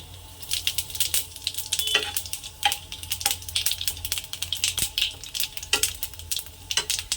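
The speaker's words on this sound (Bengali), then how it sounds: "তেজপাতা দিয়ে দিচ্ছি, একটু নেড়ে চেড়ে নেব। দিয়ে দিচ্ছি কাঁচা গোটা জিরে" Bay leaf and whole cumin seeds being stirred in hot oil, with soft sizzling under repeated sharp scrapes and clinks of a spoon against the pan in an irregular rhythm, close up and fairly quiet.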